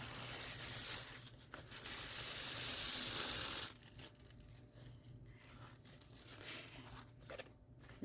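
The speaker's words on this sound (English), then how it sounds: "So I like to flip them over and hold the good side down while I gently peel" Thin decoupage paper is slowly peeled from its backing sheet for a trinket bowl craft, giving a close, soft, hissing crinkle in two longer drawn-out pulls followed by faint rustles.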